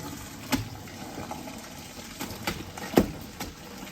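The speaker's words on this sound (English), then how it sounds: "we're just going to take them over and drain them" Boiled pierogis and hot water poured out to drain in a kitchen, a soft watery splash and trickle with a few sharper splashes, close and fairly quiet.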